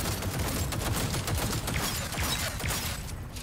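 Rapid bursts of gunfire in the video game Cyberpunk 2077: Phantom Liberty crackle densely and continuously, a loud, sustained barrage of shots filling the whole clip.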